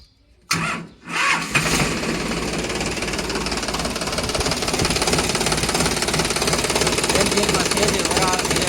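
A Sonalika DI 740 tractor engine starts up after a brief silence, then settles into a loud, steady diesel run with knocking texture, continuing without pause for several seconds.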